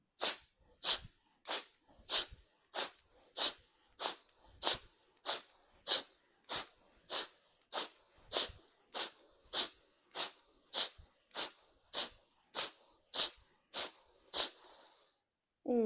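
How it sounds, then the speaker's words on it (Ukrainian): Rhythmic, forceful exhales through the nose during a twisting breathing exercise, about twenty sharp bursts spaced roughly evenly over fifteen seconds, close and clear with no talking. "І на кожен поворот ми робимо видих носом"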